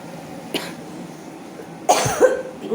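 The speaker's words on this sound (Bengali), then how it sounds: "কাশি কাশি আমাকে ছাড়তেই পারছে না" Two separate coughs from an ill person in a home kitchen, a short one early and a harsher, louder burst later, close to the microphone over faint room noise.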